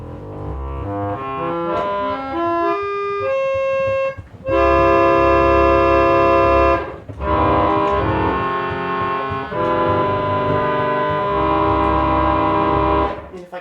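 A deep, buzzy 16-foot reed stop on a modified Bell reed organ plays sustained chords after a rising run of single notes, rich in harmonics with a low, growling foundation.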